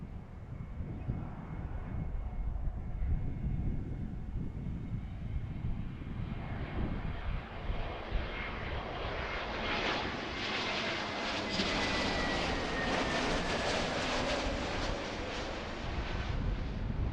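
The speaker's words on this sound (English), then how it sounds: "Here's Frontier Honey the Badger" Frontier Airlines jet at Philadelphia International Airport, a loud continuous roar of jet engines that swells over the second half as the aircraft passes, with wind buffeting the microphone.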